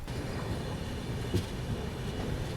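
A train rolls into Titlagarh railway station in India after a long halt at the outer signal, giving a steady low rumble of carriages with a single brief clank partway through, heard from on board.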